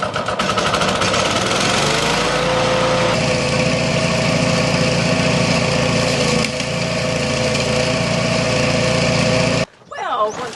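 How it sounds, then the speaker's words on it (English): A garden shredder churns through plant cuttings in a loud, steady motor roar, its pitch shifting as material feeds in, running continuously before cutting off near the end. "let's do some shredding"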